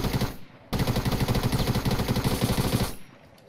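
Rapid automatic gunfire in Fortnite, a dense fast burst of shots lasting over two seconds after a brief single shot and a short pause, loud and close, with no voices.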